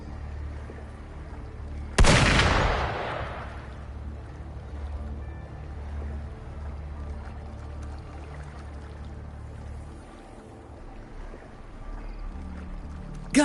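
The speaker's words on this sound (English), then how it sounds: "Gunfire! We've got intruders." A single sharp, loud gunshot blast in the Wuthering Waves video game fades into a long rumbling tail, with ambient background sound continuing afterward.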